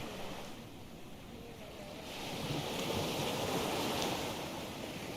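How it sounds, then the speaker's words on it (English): Ocean waves heave and wash in the Dagon VR game, a steady broad surf roar mixed with wind, growing slightly louder partway through, with no talking. "Water."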